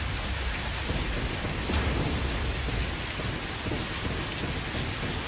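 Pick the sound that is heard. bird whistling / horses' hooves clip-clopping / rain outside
rain outside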